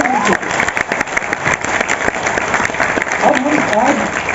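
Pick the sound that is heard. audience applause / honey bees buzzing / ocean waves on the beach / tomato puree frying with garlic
audience applause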